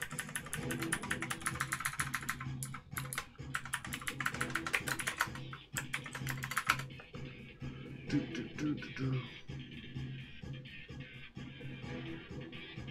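Rapid keyboard typing on a computer during a hobby hacking session on a Tux Droid robot, dense clattering keystrokes in fast bursts that thin into sparser clicks partway through, close and steady.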